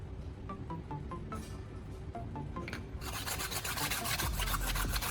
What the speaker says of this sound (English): By rubbing the bottom of the can on the sandpaper, it grinds off some of the rough edges